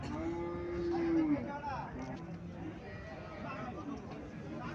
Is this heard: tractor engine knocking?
no